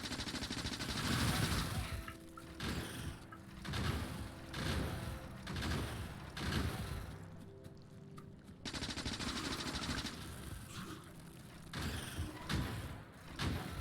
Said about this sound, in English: see if the piercing bullets do a little better job on these guys